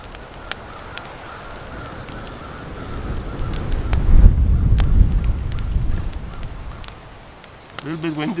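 Outdoor wind gusts on a blustery day, a rough rushing that swells to a loud peak midway, then eases, with a few faint clicks and a brief tonal sound at the end.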